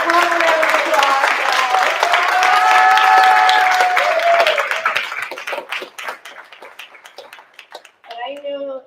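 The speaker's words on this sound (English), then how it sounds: "Let's have a round of applause." Audience applause at a school district special board meeting, steady clapping for several seconds with a voice speaking over it, then thinning to scattered claps before a speaking voice returns near the end.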